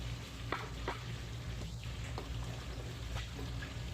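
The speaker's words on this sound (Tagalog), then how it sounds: "Ayan, sinipsip niya na po ang gata at pwede na po natin siyang haluin." Laing, taro leaves simmering in coconut milk, bubbling and hissing softly in a pan while a spoon stirs it in a few faint scrapes, with no voices.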